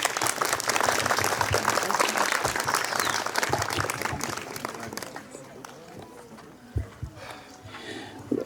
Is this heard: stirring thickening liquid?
no